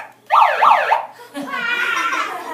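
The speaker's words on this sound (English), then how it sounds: "if you push the wrong button, it makes a police siren" A short wailing siren sweeps up and down three times, then a warbling electronic siren tone continues, close and loud.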